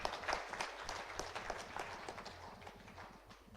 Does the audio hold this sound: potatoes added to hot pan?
no